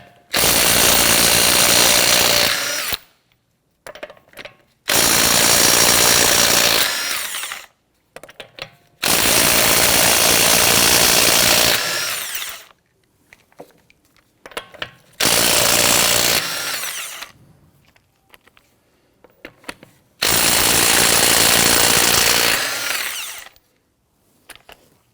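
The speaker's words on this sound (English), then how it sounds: "Using a 21mm socket, loosen and remove your lug nuts." An impact-style power tool with a 21mm socket loosens lug nuts on a Hyundai Elantra wheel: five loud, close bursts of rapid hammering whir, each lasting a few seconds, separated by pauses with faint clicks and handling noise.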